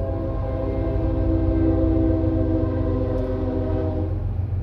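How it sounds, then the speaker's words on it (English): A train rumbles past up close while its horn blares in one long, steady blast, then fades near the end. "Train coming."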